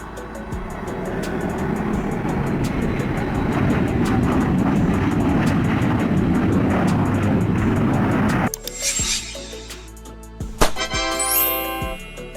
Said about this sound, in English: Private jet. A jet aircraft designed for private use